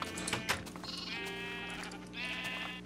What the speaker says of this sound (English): Stupid sheep, get in your enclosure.